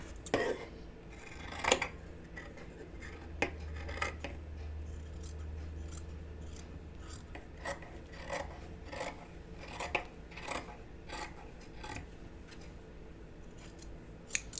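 Sharp scissors trim sewing fabric for a Deer and Doe Melilot shirt, close up, with crisp irregular snips and soft rasping blade slides spread across the stretch.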